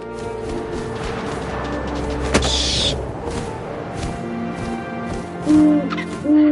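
An owl hoots in the video game What Remains of Edith Finch, two short tonal calls near the end over a low wind-like ambience, after a sharp creak or knock earlier on.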